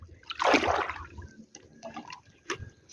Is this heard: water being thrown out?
yes